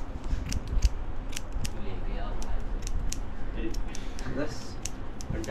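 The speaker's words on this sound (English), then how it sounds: "Got the scissor action on the go" Quick metallic snips of scissors cutting hair at a barber in Mumbai, India, repeated in irregular bursts close by, with soft background murmur and room noise.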